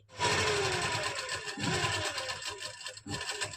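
A sewing machine stitches the arm hole of a lined V-neck suit, whirring in a loud, close, continuous run with a brief dip near the three-second mark before picking up again.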